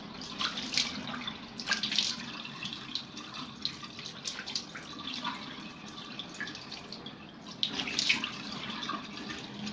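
Warm tap water runs into a sink during face washing, a faint, steady trickle with soft splashes and a few brief louder sloshes near the start and toward the end.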